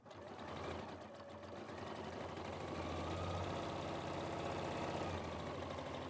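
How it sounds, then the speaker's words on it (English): Sewing machine stitching a dress, needle held down, running continuously with a fast mechanical whir and rattle, close and steady throughout. "Needle down as you sew as well."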